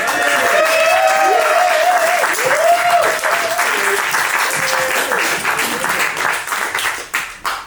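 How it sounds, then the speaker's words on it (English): A film screening audience gives loud, sustained applause that fades toward the end, with cheering and voices mixed in and a few scattered late claps. "What a round of applause!"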